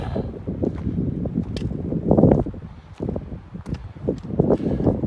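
Gusty wind outside Grotto Canyon near Canmore in the Canadian Rockies, late season after snowfall, buffeting the microphone in rough low rumbling surges that swell and ease, with faint crunching footsteps beneath.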